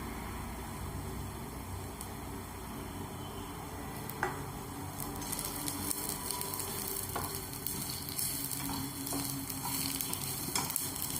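Dry grated coconut roasts in a pan with already sautéed onion, giving a steady close sizzle broken by occasional stirring scrapes and taps, with no talking.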